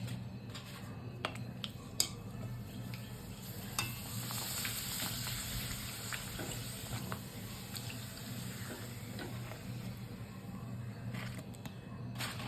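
Papad frying in hot oil while being stirred, a quiet continuous sizzle with occasional sharp clicks and scrapes against the pan over a low steady hum.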